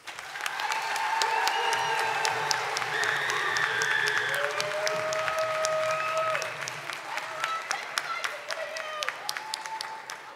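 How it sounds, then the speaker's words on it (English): An audience at a 2022 commencement ceremony gives sustained, full applause that fills the hall and then thins out near the end, with voices and whoops carrying over the clapping. "Please give them a round of applause."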